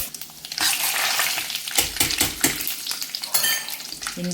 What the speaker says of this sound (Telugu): తర్వాత మనం తీసుకున్న జీలకర్ర, ఆవాలు ఇవి వేసేయాలి. ఇవి మంచిగా వేగిన తర్వాత